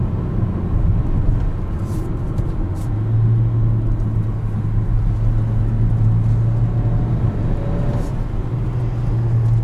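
Cabin of a 2021 Kia Seltos SX Turbo all-wheel-drive crossover accelerating, a steady low engine drone and road rumble that rises in pitch partway through, close and constant with no talk.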